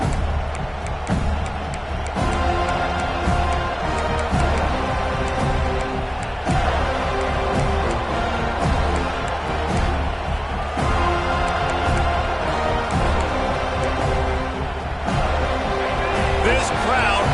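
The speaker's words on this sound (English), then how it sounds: "This crowd bringing an ear-splitting welcome to their visitors." A stadium crowd in the College Football 25 video game roars loudly and continuously with a dense, steady wall of cheering, while a commentator talks over it throughout.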